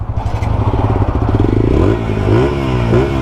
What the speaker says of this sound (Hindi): अपाची का ये आवाज़, इसका ये आवाज़ है।